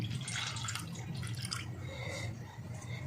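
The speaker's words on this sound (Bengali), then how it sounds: "আস্তে আস্তে এই জলটা আমি ঢেলে নেব।" Water is poured slowly off settled homemade cornflour, a soft close trickle and dribble of liquid running steadily for a few seconds, with no talk.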